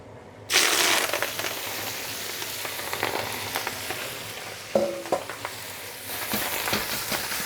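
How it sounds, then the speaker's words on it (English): Pea tips hit a very hot wok with an abrupt loud sizzle that settles into steady frying hiss, broken by a few scrapes and stirring clatters of the spatula, with no voices. "we will take all of those pea tips, and we're gonna go ahead and dump them right in"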